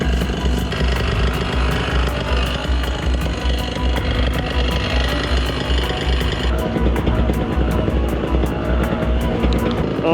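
A paramotor engine runs at full power during takeoff, a loud, steady propeller roar that holds throughout with only a slight shift partway through.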